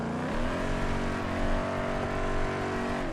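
A Gavril 5.5 liter V8 car engine in the BeamNG video game, a steady loud droning engine note holding and rising slightly in pitch, alone without talk.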